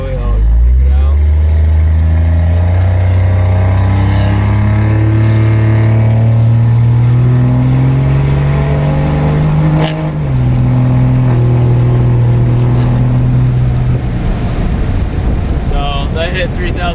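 Deleted diesel truck accelerating on a highway with the windows down, a loud deep engine drone rising steadily in pitch through the gears, with a brief shift dip midway, all under heavy wind rush.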